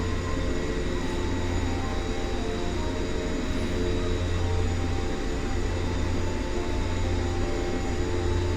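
A jet aircraft engine in the X-Plane 11 flight simulator gives a steady, loud, broadband roar with a constant tonal hum, unchanging throughout with no talk.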